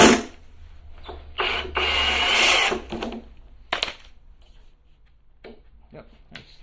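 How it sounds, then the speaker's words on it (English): A power driver whirs in short bursts as a screw bites into plywood without a pilot hole, with pauses and scraping handling noises between runs. "you do not need to drill ahead of time. You can just screw and go."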